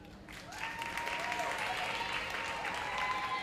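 An audience at a performing arts awards evening keeps up sustained applause for a performer from a performing arts society. The clapping builds after a quiet start and stays full and even, with a voice carrying over it.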